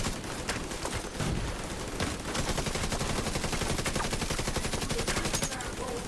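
Rapid automatic turret gunfire in The Division video game, a dense continuous rattle of shots lasting throughout, loud and close, with faint game noise underneath.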